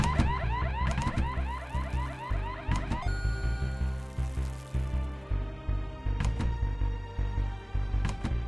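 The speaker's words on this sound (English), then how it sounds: "I think I broke the alarms." A looping alarm from the video game Horace wails continuously over game music, its repeating rising tones loud and steady throughout with no pauses.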